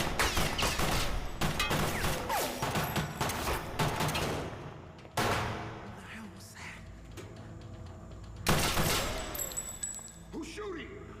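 Bursts of gunfire in an action film scene, loud crackling volleys that break off and return, mixed with other effects, and voices speaking between the bursts.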